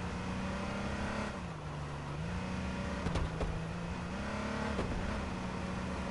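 A car engine drones steadily while driving in the battle-royale video game H1Z1, with the pitch rising and falling as it revs. A couple of brief clunks break in partway through, and no one speaks.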